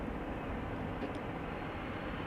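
A High Fly Malta Airbus A340-300, about 22 years old, arriving at Amsterdam Schiphol Airport, heard as a steady, broad jet engine roar that holds at an even level throughout with no voices.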